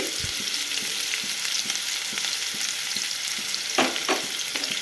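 Okra fries in hot oil with onion, green chillies and curry leaves, a steady close sizzle with occasional crackles and a few soft stirring knocks of a spoon against the pan.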